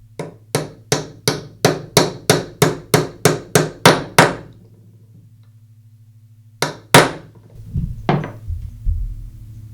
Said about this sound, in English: I'll place the socket on the race and tap it in place with a hammer.